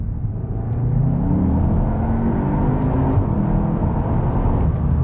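A 2021 Cupra Leon VZ2 hot hatch engine hums steadily at a low pitch after a downshift into second gear, a continuous throaty drone with light road noise and no voices.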